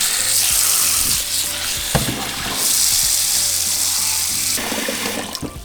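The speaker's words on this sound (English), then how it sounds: "I'm going to fill out my pot halfway with water" Water pouring steadily into a 12-quart cooking pot filled halfway for menudo, a continuous broadband rush with a few clanks, close and fairly loud with no talking.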